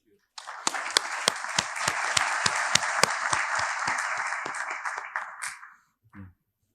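Applause for the speakers at the close of a conference panel: a few sharp, distinct claps lead into a dense, steady round of clapping that lasts several seconds, then stops abruptly, leaving a brief soft sound after.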